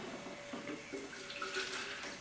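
Water poured into a drink of psyllium seed and honey, a steady wet splashing and trickling at close range, moderately quiet, with no voices.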